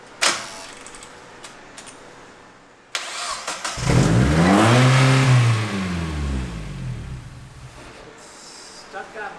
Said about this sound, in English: turn that on, and then it should fire right up